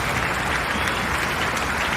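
Applause during a Saturday night rock talk show, a short burst of dense, even clapping heard alone without speech.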